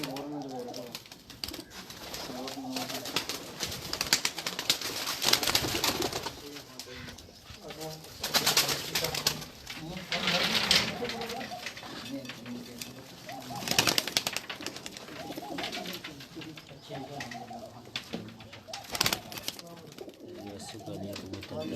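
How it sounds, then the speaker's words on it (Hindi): Pigeons coo repeatedly at close range on a rooftop amid outdoor commotion, with people talking loudly over them and occasional bursts of wing flapping. "कबूतर डाल रहे हैं"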